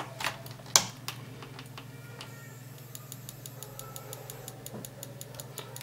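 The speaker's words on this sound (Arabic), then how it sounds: "اسمعوا صوت يعني تك تك تك تك تك وهي صادرة من التيكون" A faulty T-con board in a Samsung UA32D500 TV that may have a short circuit gives off faint, rapid, evenly spaced electrical ticks. A few louder clicks come first, all heard close up over a low steady hum on the repair bench.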